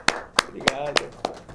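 A handful of distinct claps, about five evenly spaced, close and fairly loud, closing an interview segment with a samba guest; a voice murmurs faintly underneath.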